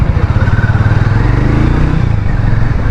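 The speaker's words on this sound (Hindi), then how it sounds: "सीरियसली बाइक का इनिशियल पिकअप काफ़ी ख़तरनाक है" A Hero Maverick 440 motorcycle pulls away hard on a city road, its engine throbbing loud and close with a rising, pulsing exhaust note for a few seconds.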